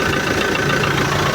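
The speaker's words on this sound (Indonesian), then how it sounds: "Alhamdulillah mesin udah nyala nih 300 dpi, kondisi mesin bagus" A Land Rover Defender diesel engine idles in a steady, dense rumble that runs close and loud throughout, with no speech over it.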